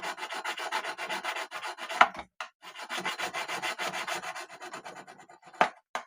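Steady back-and-forth rasping as a fret leveling tool scrapes across a guitar fret, close and fairly loud in repeated strokes, with two short pauses and sharp knocks near the middle and end.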